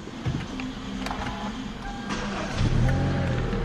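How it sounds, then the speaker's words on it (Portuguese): A 2012 Hyundai Elantra 1.8 GLS gasoline automatic engine cranks and catches, settling into a steady idle, heard close from inside the car. "Vamos estar entrando nele e dando partida."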